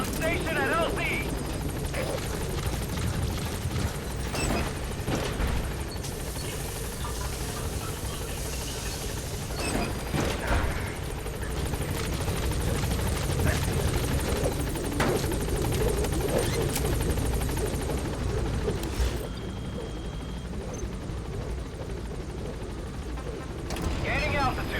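The Pequod support helicopter in Metal Gear Solid V gives a loud, sustained rotor thrum with engine whine, holding close and steady while voices talk over it.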